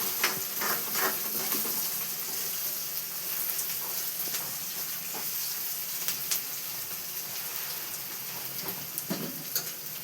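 Mint leaves fry in hot oil in a pan with a steady, close crackling sizzle, with scattered sharper pops and faint stirring ticks throughout.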